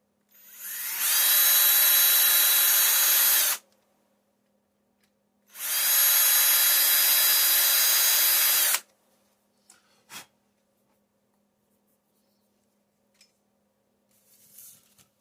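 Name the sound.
power drill drilling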